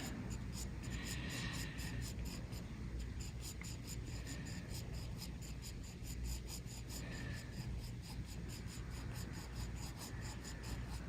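A pencil scratches steadily across paper while sketching the curved outline of a spoon, a soft, continuous, close scraping with faint rhythmic strokes over a quiet hiss.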